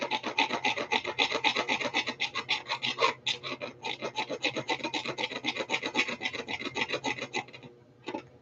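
Coarse abrasive rasping on a spoon steering wheel for a Honda DC-5, a steady run of close, loud back-and-forth strokes that pauses briefly near three seconds and again near the end, with no talking.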